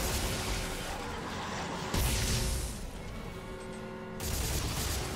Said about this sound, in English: I force gunned the claw away there